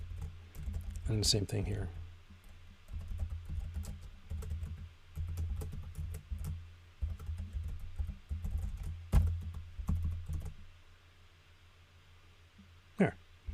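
Computer keyboard keys clatter in bursts while someone writes Rust code, with quiet close typing under a low background hum and a short spoken remark.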